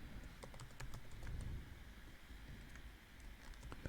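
Rapid keystrokes on a computer keyboard tap out in a steady, irregular patter, close and fairly quiet against a faint room hiss, with no voices.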